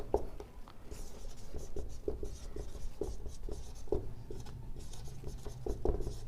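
Chalk or a pen writes on a board during a chemistry lesson on crystal defects, a quick series of scratchy strokes and taps, close and steady, with no speech over it.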